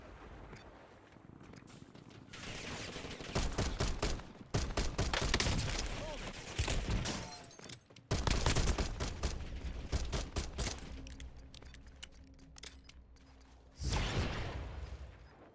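Enemy gunfire in the Call of Duty Warzone video game: loud, dense bursts of shots that come and go over the whole stretch, set against wind and engine-like background noise.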